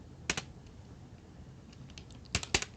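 A few quick computer keyboard keystrokes come in two short bursts, with a pause of light background hiss between them, close and fairly quiet.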